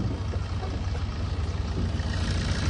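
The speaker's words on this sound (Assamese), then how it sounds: "চাউণ্ডটো ডিজেল গাড়ীৰ নিচিনা পাতল হৈ আছে, চাউণ্ডটো আপোনালোকে শুনা পায়ে আছে।" A Fiat Punto diesel car engine idles with its bonnet open, giving a steady, close, low throbbing hum with an even pulse and no voices.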